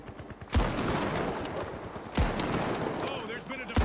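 Sniper rifle shots in a first-person shooter game: three loud, sharp cracks spaced about a second and a half apart, each trailing into a rumbling echo over continuous game noise, with a voice talking in the background.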